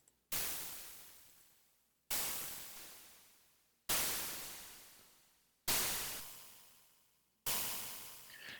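An ElectroHat drum module fires pseudo-random electronic hits: five sharp, noisy bursts, each decaying over about two seconds, spaced evenly and sounding like hissing hi-hat or snare-like tones with no voices.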